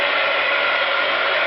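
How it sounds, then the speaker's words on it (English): Heat tool blowing hot air to dry tea-dyed paper, a steady loud whooshing hiss held without change throughout, close up and alone. "sorry for the noise, but you know how it is with the heat tool"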